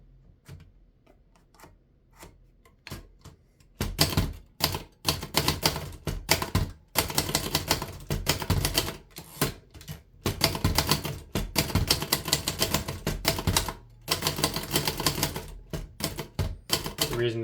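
A 1937 Remington Noiseless Model 1 typewriter is typed on steadily, giving bursts of rapid, close, muffled key strikes with brief pauses between runs and occasional carriage sounds.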